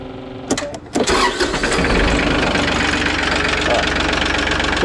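A Challenger MT275 diesel tractor engine cranks with a few quick starter bursts, catches and settles into a loud, steady idle right next to the listener.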